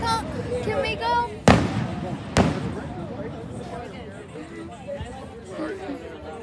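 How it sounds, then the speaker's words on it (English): Fireworks going off in the distance, two sharp loud bangs early on and a fainter pop later, under ongoing crowd chatter and nearby children's voices. "I think those might actually be the fireworks"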